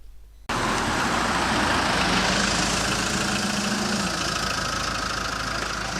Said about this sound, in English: traffic suddenly everywhere and noise in abundance